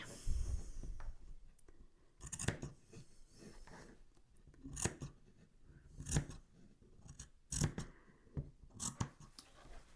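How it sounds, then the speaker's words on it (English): Scissors snip fabric around the bends of a padded Christmas tree sewing decoration, with clusters of close, crisp cuts coming in uneven bursts and quiet gaps between them, and no voices. "you need to go in and put some little snips around the bends and do that all the way around your tree"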